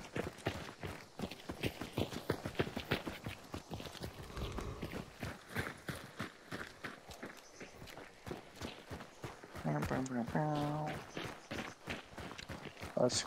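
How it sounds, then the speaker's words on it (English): Rapid hoofbeats of a horse in the video game Hunt: Showdown clatter in a steady galloping rhythm while people talk over them, with a brief tonal jingle partway through. "I do hear that horse, though."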